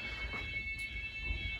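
A fire alarm sounds inside the Château d'Ermenonville, a faint, steady electronic tone that holds unbroken for the whole moment against quiet room ambience.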